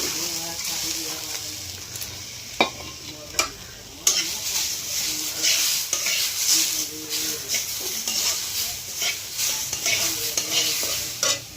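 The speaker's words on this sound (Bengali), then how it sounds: "এটা দিয়ে এখন আমি মুগ ডালটা ভেজে নেব" Washed moong dal frying in oil in a wok, a close steady sizzle and hiss with repeated scraping stirs throughout and a few sharper knocks of the utensil.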